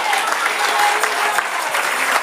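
A brief burst of a church congregation clapping together, loud and steady, with faint voices mixed into the applause.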